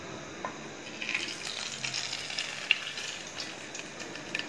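Fried oil is poured into a hot saucepan for chicken biryani pulao, giving a quiet, uneven sizzle that swells after a moment, with faint clinks.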